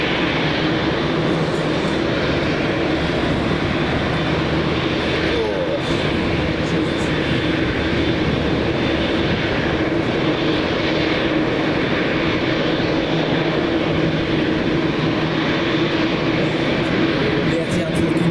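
An Etihad airliner at Manchester Airport sends out a sustained, loud broad engine roar that stays steady throughout, with faint talk mixed in at times.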